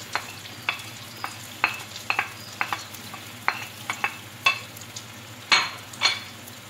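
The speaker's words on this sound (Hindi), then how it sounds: "साथ ही इसमें प्याज भी डाल दूंगी।" Onions fry in a pan for an aloo dish while a spoon scrapes and clinks against the pan in a steady series of stirring strokes over a soft, constant sizzle.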